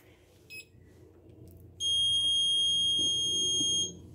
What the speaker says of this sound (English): Alarm on